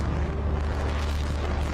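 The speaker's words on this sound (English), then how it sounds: "landing burn has hit startup, and we have ignition" A rocket engine igniting for its landing burn gives a steady, dense roar, a rumble of even loudness with no break and no voices.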